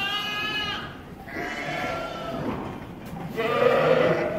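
Sheep and lambs bleat at spring lambing, with several wavering calls overlapping over steady pen noise. Some cries come close and loud, others sound further off, and no one speaks.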